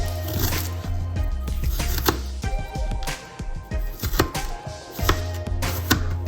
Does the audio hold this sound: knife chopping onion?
yes